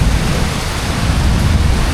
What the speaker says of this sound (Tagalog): dito na tayo magpatila ng ulan din